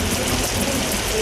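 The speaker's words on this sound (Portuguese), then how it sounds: "mesmo com a forte chuva que caía no estádio" Heavy rain pours steadily over an empty football stadium during a Copa do Brasil match, a dense, continuous broadband hiss with no distinct individual drops, loud and even throughout.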